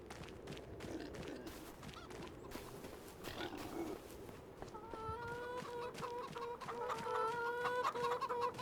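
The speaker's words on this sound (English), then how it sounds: "over here are the chickens" Chickens in the Farming Simulator 25 game cluck and chatter over a soft rustling background, with sharp clucks scattered early and a louder, steadier run of calls in the second half, with no talking.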